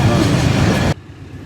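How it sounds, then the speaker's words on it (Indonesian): A train passes close by on the Babaranjang line at a crossing, a loud dense clattering roar that cuts off abruptly to a quieter rumble near the end. "Kereta api pun sudah bisa melintas dengan normal lagi."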